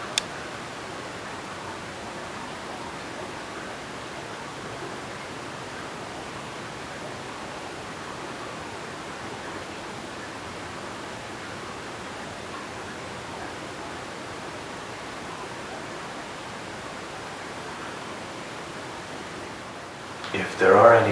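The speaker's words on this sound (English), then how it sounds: "It's really quiet. You can only hear the stream." A stream flows steadily outside a quiet house under renovation, a soft, even rush of water holding constant for about twenty seconds, ending with a brief louder knock or shuffle close by.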